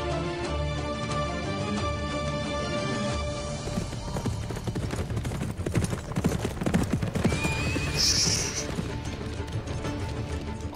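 Several horses trot with steady clip-clop hoofbeats, and sharp neighs and whinnies rise over them near the end, in an Ottoman-era historical drama setting with a faint voice in the mix.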